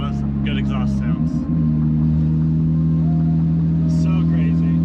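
Porsche GT3 RS exhaust droning steadily and loud close by, a deep sustained rumble with a brief shift in pitch partway through, voices faintly audible underneath.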